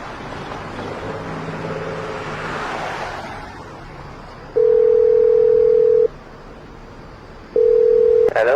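A phone call's ringback tone repeats: two long steady beeps, a few seconds apart, over faint background noise, with a short burst of other sound at the very end.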